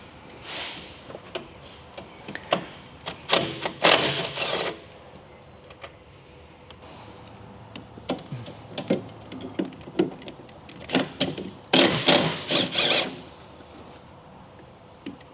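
A ratchet fitted with a 7/8 socket loosening a plug on a Bad Boy mower during a transaxle fluid change: close, bursts of quick metallic clicks in short clusters separated by pauses, with no talking.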